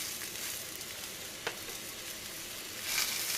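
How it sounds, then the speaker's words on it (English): Birria chili oil sizzling in a hot cast iron pan, a constant close hiss and crackle that swells slightly toward the end, with no talking. "To your pan or your cast iron, you're gonna add your desired amount of birria chili oil."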